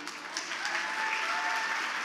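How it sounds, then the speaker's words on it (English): Steady, dense audience applause after a contemporary dance performance at a national surgery conference event, sustained at an even level throughout. "Have a huge round of applause for Gautami."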